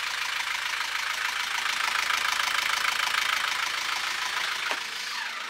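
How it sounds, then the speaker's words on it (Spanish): A sailboat's engine runs steadily at about 2000 rpm, a close, even mechanical chug with a constant rhythm and no rise or fall in revs. "darle 2000 vueltas de motor, ver que las revoluciones no suban ni bajan"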